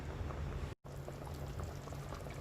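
Water poured steadily into a pot of pork menudo, a continuous near splashing rush with a brief break midway, no talk.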